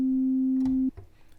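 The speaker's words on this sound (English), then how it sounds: "let's just use the sine wave for now" A steady sine wave oscillator tone from the Arturia Yamaha CS-80V software synth holds loud and unwavering for nearly a second, then cuts off abruptly, leaving faint low background noise.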